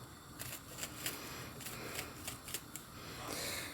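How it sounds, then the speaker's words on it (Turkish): Rapid, light knife strokes finely chopping an onion on a cutting board, a quick uneven series of crisp taps over a low background hum. "Soğanı da şöyle incecik doğrayayım"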